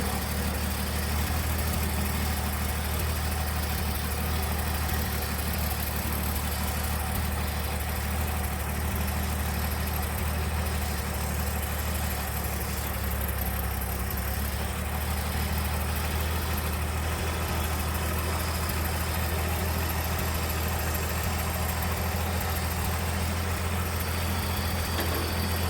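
Engine of a 1979 Ford High Boy truck idling steadily with a carburetor needing adjustment, a continuous loud rumble filling the whole stretch without pause, close by and with no voices.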